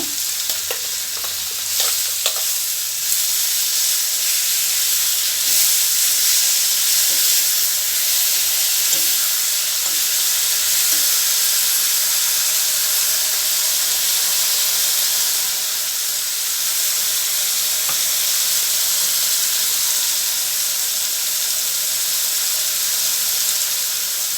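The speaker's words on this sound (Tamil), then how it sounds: "இப்போ வந்து நம்ம அந்த அரைச்ச தக்காளியையும் மிளகா பேஸ்ட்டையும் சேர்த்துருவோம்" Ground tomato and chili paste fries in oil for a country bitter gourd thokku, a loud, close, continuous sizzle and hiss with occasional stirring scrapes, steady throughout with no one speaking.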